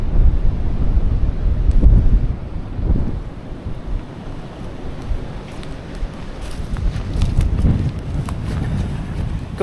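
Strong wind buffets the microphone in heavy low rumbling gusts while kayaking, steady throughout with a louder surge early on, outdoors with no voices.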